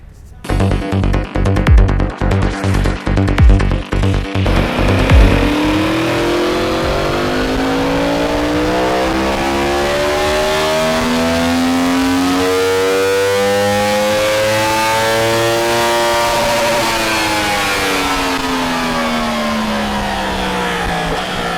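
A stock 2022 Yamaha R1 runs on a dyno, its engine rapidly blipping and crackling, then revving in one long, loud sweep upward through the gears and back down, running steadily throughout.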